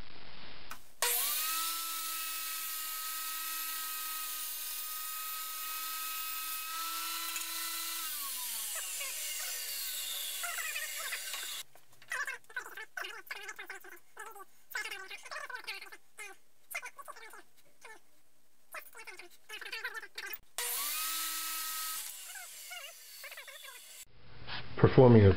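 Power saw ripping a wooden board down to 5 inches wide for a Kalamazoo amp cabinet, a steady loud whine held for several seconds, then a stretch of choppy workshop noise and a second, shorter cut near the end.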